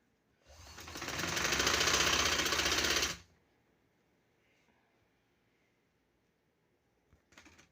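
A sewing machine runs in one steady, loud burst for about three seconds while stitching a kameez sleeve, then stops, leaving near silence and a faint click near the end.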